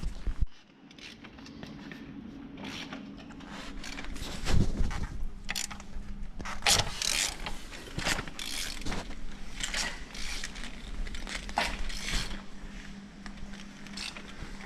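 A large ratchet wrench clicks steadily as it slowly turns the crankshaft of a Volvo XC60 D4 five-cylinder diesel engine by hand during a timing belt replacement, with close, repeated mechanical ratcheting and tight, effortful turns.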